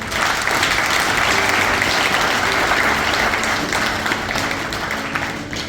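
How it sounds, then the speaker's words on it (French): Sustained audience applause at a seminar, a dense, loud wash of many hands clapping that holds steady, then eases slightly toward the end, with no voices above it. "il est également important de leur accorder un tonnerre d'applaudissements"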